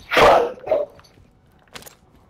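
A dog barks indoors during a Warzone gaming session: two close, loud barks in quick succession, then a fainter third bark after a short pause.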